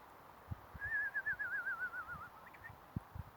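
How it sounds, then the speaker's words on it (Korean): A single bird sings a warbling, wavering trill for about a second and a half, moderately close, with a few soft low thumps around it. "이렇게 새소리 들리는데"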